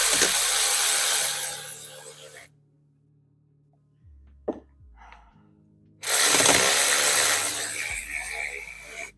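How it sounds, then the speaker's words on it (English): Ratchet wrench head spun and worked on a bolt during an F150 rear axle seal repair, sharp bursts of dense mechanical whirring that stop, leaving a quiet gap with a few clicks before the noise resumes loudly up close. "spinning this head and throwing it on a bolt will eventually bust the head of this ratchet"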